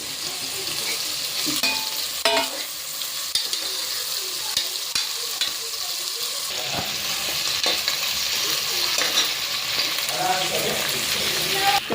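Chopped green chilies frying with onions in a pan for chicken biryani, a continuous close sizzle broken by scraping stirs and clinks of a spoon against the pan.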